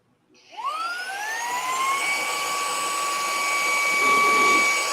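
A vacuum cleaner spins up and runs steadily close by, a loud whine that rises in pitch as the motor gets to speed and then holds a constant drone, with no talk over it.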